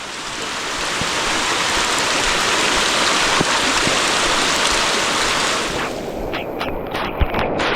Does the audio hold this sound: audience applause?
no